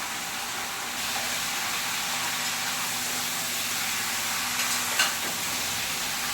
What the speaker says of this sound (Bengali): আমি এবার এটাকে ভালো করে কষবো